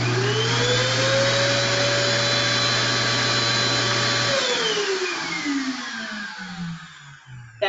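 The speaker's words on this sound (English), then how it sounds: "It's just a continuous running of the blower." Blower running steadily in continuous mode, a loud, even motor whine that holds for about four seconds, then drops in pitch and winds down toward the end with no one speaking.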